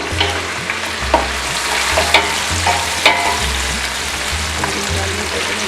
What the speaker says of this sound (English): add the lamb shanks. Fry on medium to low heat for 10 minutes until both sides are golden brown